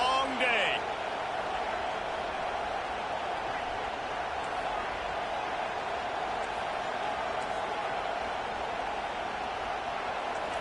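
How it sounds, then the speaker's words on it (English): A packed stadium crowd roars loudly at a football game early in play, a dense, steady wall of cheering that holds at full volume throughout without letting up. "This crowd, full throat, splitting the eardrums and letting them know it's going to be a long day."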